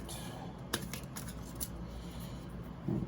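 A deck of tarot cards is shuffled close up, giving soft riffling and flicking rustles with a sharper snap partway through, all fairly quiet.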